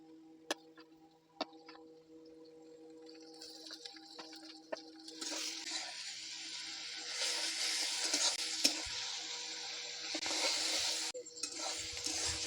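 Ground spices hit hot oil over browned onions in a pan for a Bengali chicken and potato curry, building into a steady, loud broadband sizzle after a few faint ticks and clinks, with no talking.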